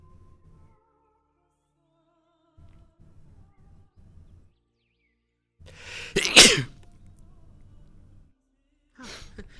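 A single sharp, loud sneeze breaks through a mostly quiet stretch with brief murmurs of voices before and after it.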